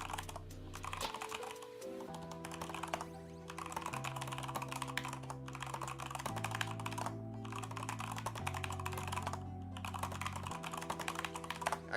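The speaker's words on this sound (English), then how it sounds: "I can type much faster on this new keyboard, bro. It's one of these new gaming keyboards." Fast, continuous typing on a new gaming keyboard, a steady close stream of key clicks running for several seconds over a faint background music bed, with no voices.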